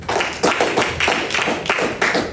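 A church congregation clapping to praise God during a sermon, a rhythmic run of loud clustered claps at a steady beat, near and full, without talk.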